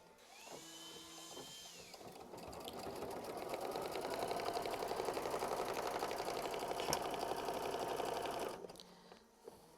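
A sewing machine stitches a quilt block in one steady run of several seconds, a rapid mechanical whirring rattle that speeds up, holds, then stops, close and clear with no talking.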